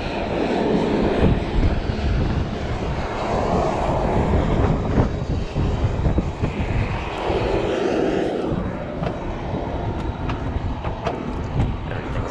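Cessna 172 with G1000 avionics, its engine running steadily and loudly through the whole stretch during a preflight run-up, a continuous drone with broadband wind-like roar and slowly swelling tones, no talk.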